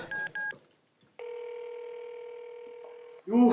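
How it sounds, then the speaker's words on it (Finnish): Telephone dialing: two quick touch-tone beeps, a pause, then a long steady ringing tone before a voice cuts in at the end. "Mä soitan siksi linjalle."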